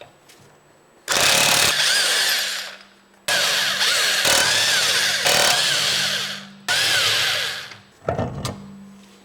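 Bursts of an impact wrench with a 21mm socket spinning off the wheel lug nuts of a 2021+ Tesla Model S in a garage, three long loud whirring runs separated by short pauses, then a brief rattle near the end.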